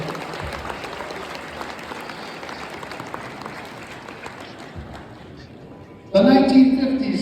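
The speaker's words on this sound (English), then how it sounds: "Can we get another round of applause for the 1940s all-decade team representative?" A high school gym audience at a basketball all-decade team ceremony claps in sustained applause, a dense steady patter that fades slightly before a voice cuts in over a loudspeaker.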